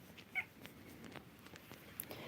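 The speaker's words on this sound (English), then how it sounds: "My second cat, Nadezhda, is here." A house cat gives a short, faint meow near the start against a quiet indoor background, followed by soft scattered rustling and no voices.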